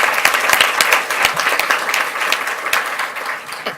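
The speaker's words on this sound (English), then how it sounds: "Let's give them one more round of applause" An audience at a school board meeting gives a full round of applause for college-bound young people, with steady, dense clapping sustained throughout.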